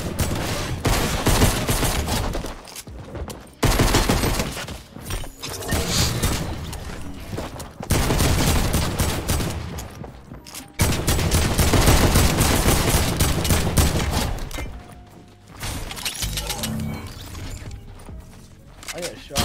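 Bursts of rapid gunfire and mechanical reload clatter in a Fortnite Arena Trios match, loud and repeated in uneven stretches with short gaps, with players talking over them.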